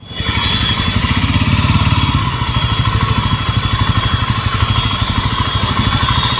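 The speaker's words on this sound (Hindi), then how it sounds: "Basically when I am riding the bike, एक बहुत तेज़ शार्प नॉइज़ आ रही है।" A Jawa Yezdi motorcycle runs with a loud, steady rapid clatter and a sharp noise from its fuel pump, close up and continuous with no speech.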